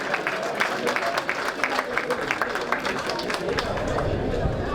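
A crowd at a wine and vine festival in Saint-Julien-les-Martigues applauds a wine cooperative, a dense patter of clapping at moderate distance with chatter mixed in.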